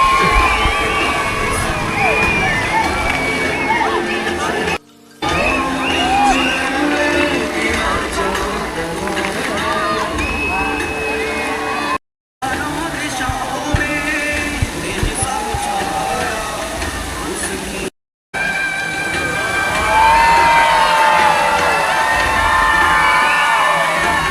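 A large crowd gathered at night at Brindavan Garden in Mysuru cheers and shouts steadily through a laser show, with children's high shouts and whoops rising over a dense, continuous roar of voices.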